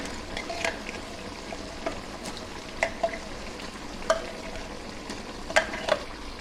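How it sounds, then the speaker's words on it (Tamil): Thick chicken gravy of onion-tomato paste bubbling and sizzling in a pan while a spoon stirs it, scraping in irregular strokes with occasional sharper clinks. "கிரேவி சேர்த்து நல்லா கொதிக்க ஆரம்பிச்சிருச்சு பாருங்கள்"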